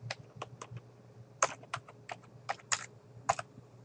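A folder name is typed on a computer keyboard: a quiet, close run of about a dozen crisp key clicks in an uneven typing rhythm, with a faint low hum underneath and no talk.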